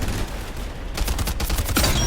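Rapid automatic gunfire from a Kilo-based rifle in a first-person shooter video game, a dense, loud burst of shots fired in quick succession with no pause.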